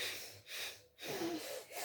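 A few close, soft nasal sniffs and breaths, with brief pauses between each airy puff.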